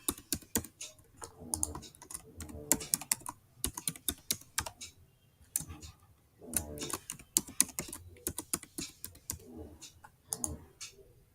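Someone types a new password on a computer keyboard, a steady run of close, crisp key clicks coming in uneven bursts with short pauses between them.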